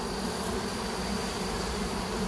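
Dense, steady buzzing of honeybees crawling thickly over a farmed hive, a continuous close hum with no pauses and no voices.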